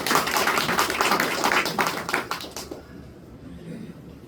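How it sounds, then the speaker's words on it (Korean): A church congregation at a Korean-language Sunday service claps together, a dense round of applause that fades out after about two and a half seconds and leaves quiet room tone. "이제는 박수 좀 하려고 하는 겁니다."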